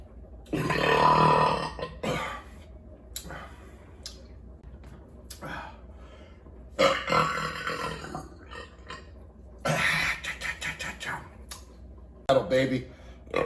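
A man lets out several burps after drinking an IPA beer, coming in separate loud bursts spread across the span, with his voice talking in between.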